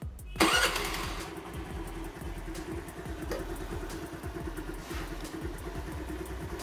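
A Honda Activa scooter engine cranks and catches close by, then settles into a steady, even idle with a rapid putter that continues to the end.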